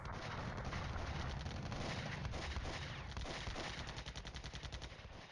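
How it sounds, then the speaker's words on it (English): Mortar and artillery fire in Flashpoint Campaigns Cold War during a night assault, dense continuous rattling bursts of gunfire and explosions, loud and steady, with no voices. "Mortar's still peppering my guys as they advance."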